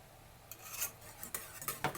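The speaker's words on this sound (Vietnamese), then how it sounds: "Mình khuấy cho đều cái trứng này ra." Eggs are stirred in a bowl with a utensil, giving close clinking scrapes against the bowl in a loose rhythm of several strokes, fairly quiet.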